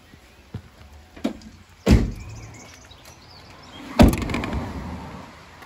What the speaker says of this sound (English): All the side loading doors open and close.